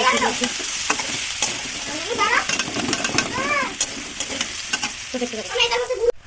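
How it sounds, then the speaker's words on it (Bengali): Cabbage, potato, carrot, beans and capsicum frying together with ginger in a home kitchen pan, a steady sizzle with stirring scrapes throughout, while a voice talks over it nearby. "বাঁধাকপি আলু গাজর বিনস ক্যাপসিকাম সব ভাজা হচ্ছে"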